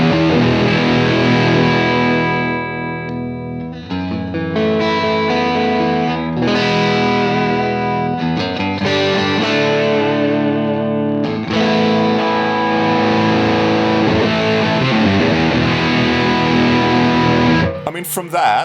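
Electric guitar through a UAFX Lion '68 Super Lead amp pedal on its super bass setting with every control on full: loud, thick distorted chords and riffs ring continuously with sustained notes, ending in a sharp noisy burst.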